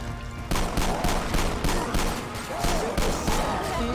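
Rapid gunfire from the Left 4 Dead 2 video game: a steady stream of loud, closely spaced shots in repeated bursts, with no talk over it.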